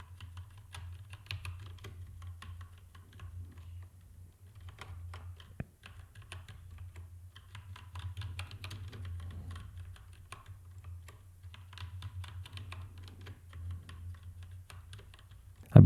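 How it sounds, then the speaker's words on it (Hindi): Steady typing of a practice lesson on a computer keyboard, with quick irregular bursts of soft key clicks and brief pauses, close and fairly quiet over a low background hum. "तो मैं यहाँ पे वापस सेम लेसन टाइप करता हूँ।"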